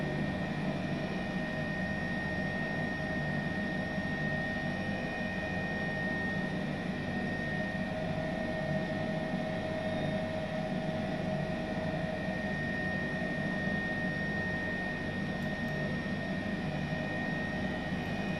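An H135 helicopter in flight simulation gives a steady, unbroken engine and rotor drone with a faint high whine layered on top, constant in level throughout and with no talking.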